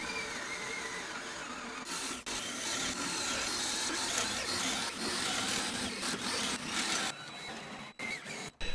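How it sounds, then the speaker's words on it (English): A drill bores holes through a wooden handrail for basement stairs, giving a continuous grinding whir in long passes broken by brief pauses, moderately close and with no talking. "And with all the holes drilled"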